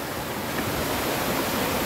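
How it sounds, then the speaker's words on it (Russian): A mountain waterfall in Abkhazia roars as a steady, dense broadband rush, loud and continuous with no voices over it. "А чтобы почувствовать дыхание водопада"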